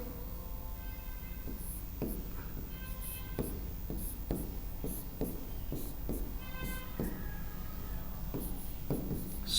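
Chalk or marker writing on a classroom board, with a series of short scratchy strokes and taps spread irregularly across the span over a quiet room background, with no talking.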